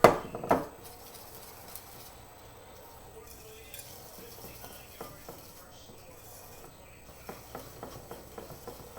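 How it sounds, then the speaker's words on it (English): Banana bread batter for blueberry banana bread being stirred in a bowl, a steady soft scraping with small clinks of utensil against the bowl, close and quiet after a couple of louder knocks at the start. "Before I add another one, I'm going to stir."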